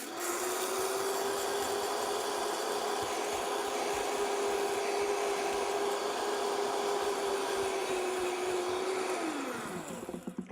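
A Vitamix blender grinds seeds into flour with a loud, steady high-speed motor whine that holds evenly for about nine seconds, then drops in pitch as the blades wind down near the end.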